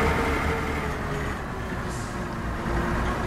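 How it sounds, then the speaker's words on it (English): Old bus engine in the OMSI 2 bus simulator game, a steady low diesel drone with a rough rumbling texture, continuous and fairly loud throughout with no talk. "This is a very old bus, it sounds like."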